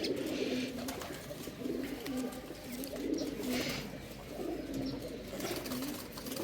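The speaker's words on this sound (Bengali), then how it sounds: "আমাদের ঘরেরই বাচ্চা জিরাগোলা কবুতর দেখেন মার্শাল্লাহ এটাও অনেক সুন্দর একটা কবুতর" Soft, repeated cooing of a Jiragola pigeon in a steady rhythm, with faint bird chirps and light background noise, no talking.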